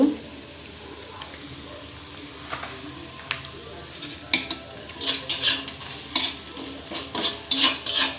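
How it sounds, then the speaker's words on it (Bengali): Spices with salt and cumin powder being stirred and fried in a pan before eggplant is added for begun bharta, giving soft sizzling with scraping stir strokes that grow busier toward the end. "দিয়ে আমি এটা নেড়ে আর একটু ভেজে নেব"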